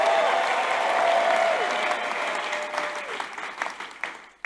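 A church congregation claps their hands in praise, a loud, dense round of applause that holds steady and then thins into scattered claps, with a sustained organ-like tone beneath at first.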